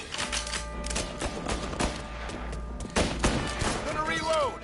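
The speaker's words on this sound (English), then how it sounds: "Reloading." Gun reloading in Mafia: Definitive Edition amid a loud gunfight, with mechanical clicks and clatter buried under near-continuous gunfire and background voices.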